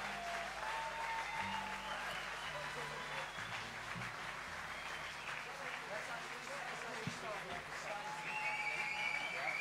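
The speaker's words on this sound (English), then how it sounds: "You've got to keep clapping, I'm sorry." Concert audience at the Festival Da Jazz in Muottas Muragl, Engadine, applauding a live show: dense, steady clapping that fills the whole stretch at a fairly even level, with faint voices and band sounds underneath.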